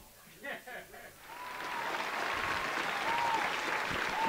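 Live crowd at a Babycastles event applauding and cheering, a dense wash of clapping that swells after a few brief voices and holds steady and loud, with occasional whoops rising above it.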